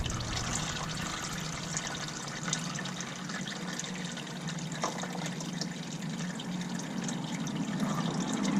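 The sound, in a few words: oil draining from a Can-Am X3 into a funnel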